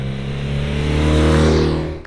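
Steady, loud engine drone and airbox induction roar from a 2024 BMW R12 NineT motorcycle under way, a continuous rising pull with strong low harmonics, close up and without speech.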